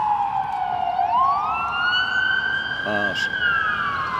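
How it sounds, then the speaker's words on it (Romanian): An ambulance siren passes on a street in Romania during an outdoor campaign launch event, its loud wailing tone sweeping up and down over steady traffic rumble, with a brief spoken word from a nearby voice. "Cei care stau, să așteptăm să treacă ambulanța."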